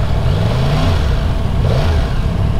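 Yamaha MT-10 SP naked motorcycle engine pulling under acceleration, a steady loud mid-pitched drone with rising tone shifts throughout, no voices over it.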